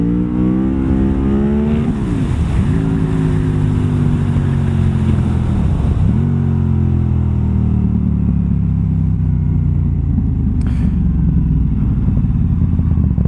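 A motorcycle engine revs hard in second gear for a wheelie, its pitch climbing in long sweeps with two sharp dips as the throttle rolls off and back on, loud and close throughout.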